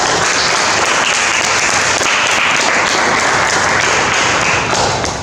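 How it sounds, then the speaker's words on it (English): Loud, sustained applause from a seminar audience for a student speaker after a talk on urban leopards, with dense continuous clapping lasting about five seconds and easing slightly at the end. "Let's give him a big round of applause."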